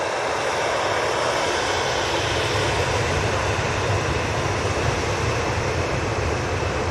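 A Boeing 737 MAX 8 jet at Manchester Airport roars steadily and fairly loudly, a dense, continuous rush of engine noise with a low rumble, alone without voices.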